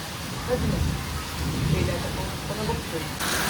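Heavy first rain of the season pours down in a steady, loud hiss over a terrace, with a voice faintly audible under the downpour.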